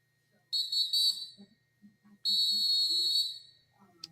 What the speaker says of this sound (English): Let's get that whistle.